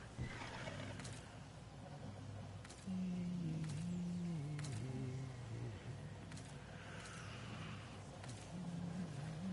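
A sparrow hover vehicle's engine revs in a PS4 video game, a whining tone that rises and falls over steady game noise and faint thumps, no talking.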